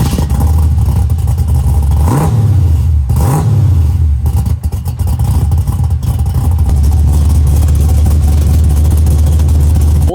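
An old Chevy engine idles with a deep rumble and is blipped into two sharp revs near the start, then settles back into a steady, loud idle.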